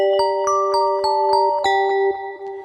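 Artemis Bells preset from Arturia Pigments 3 synth, a run of bright bell tones struck one after another at a steady pace, each chime ringing with clear sustained overtones and a long shimmering decay.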